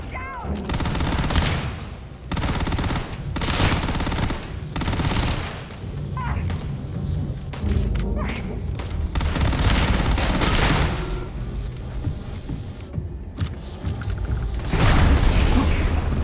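Constant gunfire and booming grenade blasts from a firefight in the video game Starfield roll on without a break, dense and loud, with a voice briefly heard under the din.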